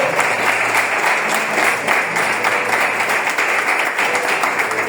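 A church congregation applauds steadily through the whole stretch, a dense, loud wash of many hands clapping with no pauses.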